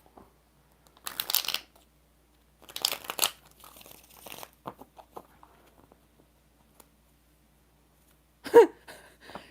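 Several short bursts of tarot cards being shuffled, crisp riffling and flicking with quiet gaps between, close by and with no talking.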